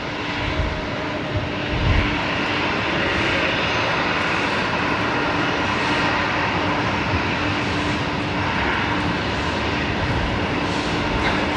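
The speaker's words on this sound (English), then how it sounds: "New Zealand 148 heading off back home to Auckland. Here we go, cleared for takeoff." An Air New Zealand jet roars steadily on its takeoff run at Brisbane Airport at night, a loud, sustained engine rumble and whine that fills the whole stretch without letup.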